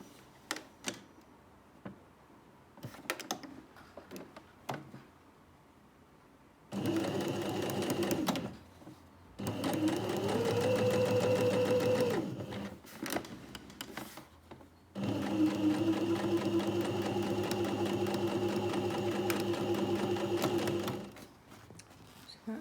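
Domestic sewing machine stitching shoulder seams on a garment with a v-neck facing, running in three long loud whirring bursts with a rising motor pitch, separated by quieter clicks and handling noises.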